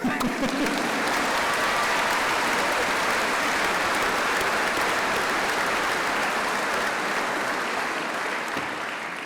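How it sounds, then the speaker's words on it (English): Graduation ceremony audience at Birmingham City University applauding on a warm morning, a dense, steady wash of many hands clapping that holds loud throughout and tapers slightly at the end. "Please do applaud them."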